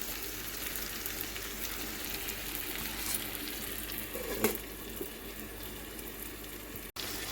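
A steady, close sizzle of masala paste with chilli powder frying in a covered pan, an even hiss with one brief louder crackle midway and no talking.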